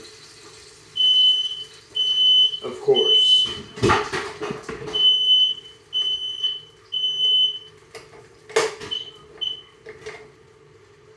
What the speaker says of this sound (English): And there goes my smoke alarm.